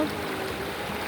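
Clear, shallow river water flows near an irrigation sluice gate built by the National Irrigation Administration, making a steady, even rush of water with no talk.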